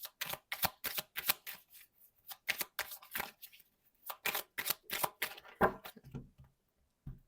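Tarot cards are shuffled for a reading in repeated quick riffling bursts separated by brief pauses, close and fairly quiet with no talk.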